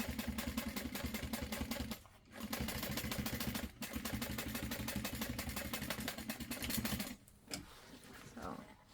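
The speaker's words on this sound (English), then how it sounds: "I'm stitching here and then I'm going to do the second stitch" Sewing machine stitching a LindSport mini backpack, running in steady rapid bursts of needle clatter with short pauses between stitch runs, close and loud.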